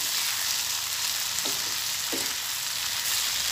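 Garden vegetables cook in a pan, Nepali style, under a loud, dense, even hiss of frying. Two brief stirring scrapes cut through midway, and there is no talk.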